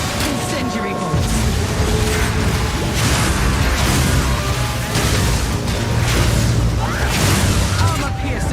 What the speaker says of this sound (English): Incendiary bolts.